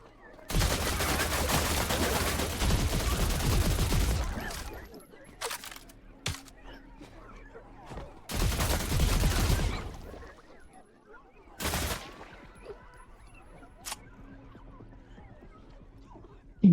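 Machine gun firing in the Last Caretaker video game: two long, loud sustained bursts of rapid automatic fire, separated by short single shots and quieter stretches, with a final brief burst.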